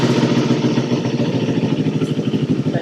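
A Kawasaki Ninja 400 motorcycle engine idles up close with a steady, loud, throbbing pulse and slight mechanical clatter throughout.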